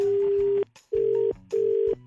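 A phone on speaker rings out while a call is dialed: three long steady ringback tones separated by short pauses, loud and clear with no talking.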